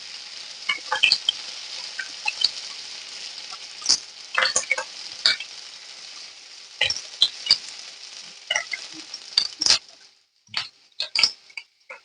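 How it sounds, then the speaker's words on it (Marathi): Onion frying in oil with cumin and mustard seeds gives scattered crackles and pops over a soft steady sizzle, fairly close, with no talking. "आता कांदा कांदा आपण तेलामध्ये करपूस भाजून घ्यायचा आहे"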